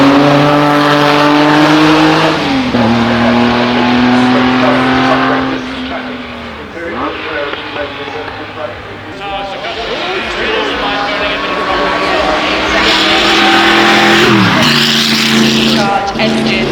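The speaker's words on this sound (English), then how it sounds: "The Porsche 911 reimagined slightly based on that wide body." A wide-body Porsche 911 revs hard at the Goodwood Festival of Speed, its engine pitch climbing and dropping through repeated gear changes, loud and sustained, with a crowd and a commentator talking over it.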